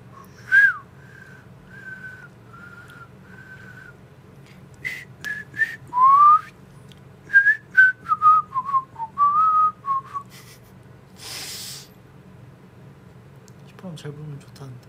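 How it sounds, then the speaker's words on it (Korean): A person whistles a series of short, wavering tones, some held and some quick chirps, fairly close and moderately loud, with pauses between phrases and faint room noise beneath. "휘파람 잘 부냐고 못 불어요"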